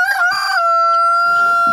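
A large rooster in a henhouse crows loudly and close by, one long drawn-out call that holds steady before trailing off, with some faint background rustling near the end.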